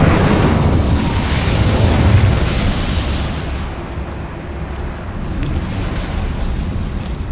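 A fire spell cast in Hogwarts Legacy erupts as a loud, broad whoosh and rumbling blast that swells over the first two seconds, then settles into a sustained crackling roar that slowly fades.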